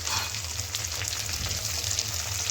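Ginger, cumin, pepper and garlic paste with onions sizzle in oil with a steady, hissing fry and faint bubbling, close and continuous throughout.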